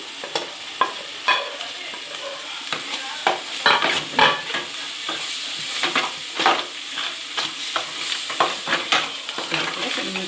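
Chili powder fries in a fish curry gravy with a soft bubbling sizzle, broken by frequent rhythmic scrapes and knocks of a spoon stirring against the pan, close and clear.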